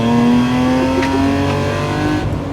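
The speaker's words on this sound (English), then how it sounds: "let's do the back end kick out on the Yaris." A Toyota Yaris engine drones loud and steady close by as its back end kicks out, a sustained car engine tone with a faint tyre scrub, no voices.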